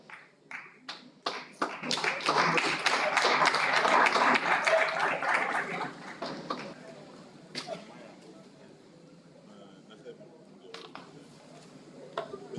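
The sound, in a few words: audience clapping at lecture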